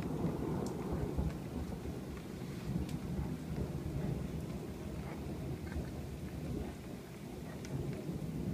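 Thunder rolls through a heavy downpour, a steady dense hiss of pouring rain with low rumbling swells and occasional drop ticks, fairly distant and fairly quiet, no voices.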